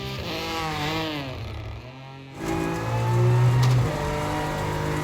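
Turbocharged 3-cylinder all-wheel-drive rally car engines with sequential 5-speed gearboxes in the WRC 2024 video game, revving loud and close with rising and falling pitch, a brief dip near the middle before the engine note surges back.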